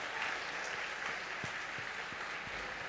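A church congregation claps together throughout a service, a steady, even wash of applause with a few soft thumps scattered underneath.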